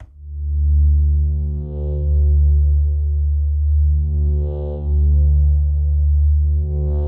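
A Massive synth swell patch without its high tone layer: a loud, dark, droning bass tone that pulses in slow waves, with a faint airy hiss rising twice, heard alone.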